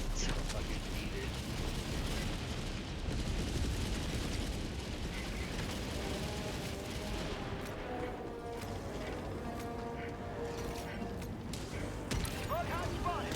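Orbital strike explosion in Helldivers 2, a dense rumbling blast and roar filling the scene, with crackling debris and scattered gunfire continuing as it settles; no clear voices over it.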